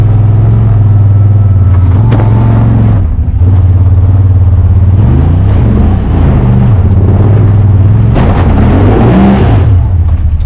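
A Honda Talon side-by-side with bigger tires and more lift climbs a hill in four-wheel drive low, its engine loud and close, droning steadily with shifting revs and rising pitch sweeps.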